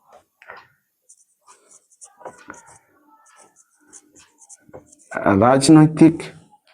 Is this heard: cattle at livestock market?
no